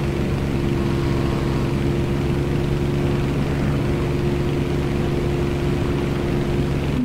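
Droning bomber engines in a World War II flight combat game, a steady loud propeller hum with a constant low tone that holds unchanged throughout, with no voices over it.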